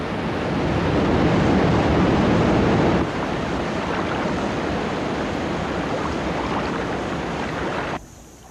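Violent river falls roar with a dense, steady, broadband rush of crashing water, loud and continuous, easing slightly after a few seconds before the sound cuts down near the end.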